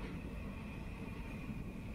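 A passenger train runs along the tracks on a route from Natore to Sirajganj. A low, steady rumble and rail hum holds throughout at a moderate distance.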